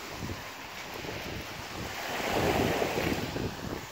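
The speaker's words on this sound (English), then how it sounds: "He wanted to go chase the waves." Ocean waves wash onto a beach in a steady rushing hiss mixed with wind buffeting the microphone, swelling slightly midway as a wave breaks.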